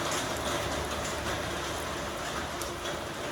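Rain falling steadily, a dense continuous hiss of drops spread evenly throughout, fairly close with no pauses or voices.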